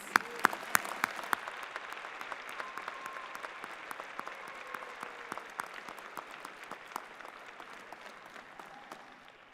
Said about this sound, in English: the graduating class should give a round of applause to those folks up in the bleachers